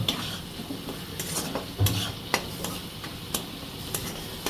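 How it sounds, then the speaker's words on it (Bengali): A ginger and spice paste frying in a pan for a Bengali potol dorma with prawns gives a steady close sizzle, broken by repeated scraping knocks of a stirring spoon. "মশলাটা একদম ভাজা ভাজা হয়ে গেছে।"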